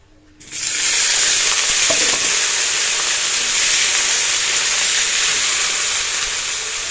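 Panch phoron spices drop into hot oil with a sudden loud burst of sizzling that settles into a strong, steady close-up hiss lasting several seconds, alone without talk.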